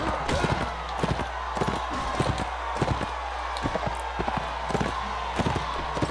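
Horse hooves galloping in Mount and Blade: Warband, a rapid run of sharp, irregular thuds at close range over a low steady hum, with no talk.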